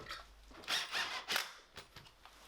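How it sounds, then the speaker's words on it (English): A power drill bores holes into a wall for wall plugs to hang a camera display shelf, giving a few short, gritty bursts of drilling separated by brief pauses, fairly close. "mark out the holes where the two plates are, get those drilled and some plugs put in"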